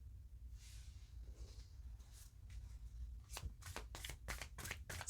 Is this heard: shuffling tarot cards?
yes